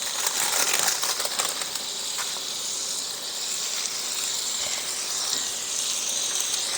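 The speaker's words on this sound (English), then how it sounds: "Go ahead and put your Wagyu beef steak burgers right on down in there." Wagyu beef steak burgers sizzle in a hot pan with butter, a steady broadband hiss and crackle of frying that runs close and even throughout with no talking.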